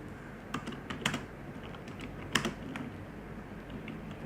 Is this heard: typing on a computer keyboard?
yes